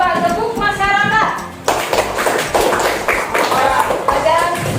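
Classroom group hand clapping in a rhythmic pattern, dense and loud, with a voice talking over the start before many hands clap together.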